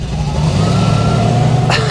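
A truck engine revving at a roll racing start line, heard as a loud, close, rough mid-pitched drone that holds steady and then climbs slightly near the end.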